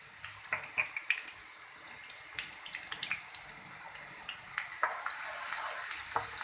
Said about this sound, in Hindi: हमने ऑयल के अंदर डाल दिया है प्याज को।